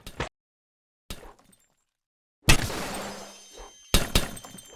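A glass bottle shatters in a bottle-shooting video game, a sharp crash with a short trailing tinkle, set among a few brief clicks and gunshot-like bursts separated by silence.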